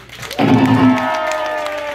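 Concert crowd at a live show bursts into loud cheering and applause that swells suddenly and then holds steady, with ringing stage tones sustained underneath.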